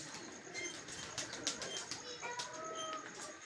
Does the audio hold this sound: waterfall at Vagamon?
no